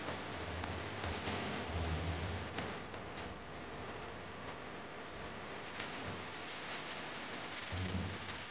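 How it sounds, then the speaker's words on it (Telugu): Heavy rain pours steadily at the seaside during a storm, a dense close hiss with low gusty rumbles and occasional ticks, and no talking. "వర్షం అయితే చాలా గట్టిగా ఉంది."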